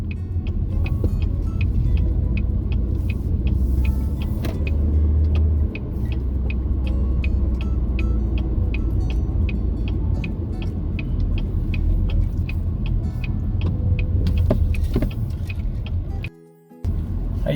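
A car creeps through bumper-to-bumper traffic on 68th Avenue toward a stoplight, steady low engine and road rumble with a faint regular ticking like a turn signal throughout, briefly cutting out near the end.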